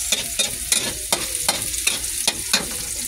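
Pancit canton noodles stirred and tossed in a hot frying pan, with steady sizzling of frying under a rhythmic series of sharp scraping strokes about every third of a second, close and clear, no voices.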